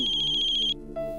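A phone ringtone chirps in a fast repeating electronic trill for most of a second, then cuts off and switches to a brief steady tone, clear and close.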